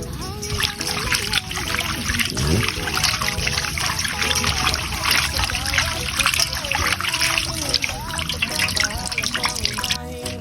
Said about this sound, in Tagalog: So ang gagawin lang natin, maglagay tayong tubig.